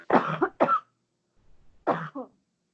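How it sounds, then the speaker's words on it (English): A person coughs a few times in quick bursts, pauses, then coughs again once or twice, close and fairly loud in a quiet indoor room, with nothing else heard. "I was trying to cough away from the speaker."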